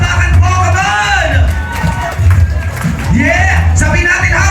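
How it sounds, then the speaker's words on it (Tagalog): A crowd at an 18th birthday celebration shouts and whoops loudly, with a steady wash of cheering and clapping-like noise under an amplified voice. "Palakpak na may kasama sigawan!"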